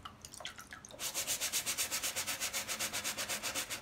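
A shoe gets scrubbed in a bathroom with a wet premium brush and Shoer cleaner. A few light taps are followed by about twenty quick, even back-and-forth brush strokes, close and rhythmic.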